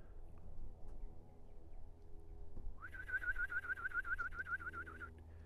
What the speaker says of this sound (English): All right, we got a few birds out flying.